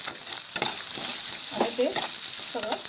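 Potatoes and peas frying in a pan for batata poha while being stirred, a steady broad sizzle with scraping spoon strokes and soft clinks at intervals, close and moderately loud, no talk.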